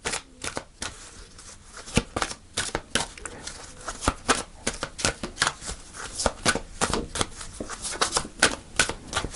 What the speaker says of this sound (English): Let's pull some angel cards.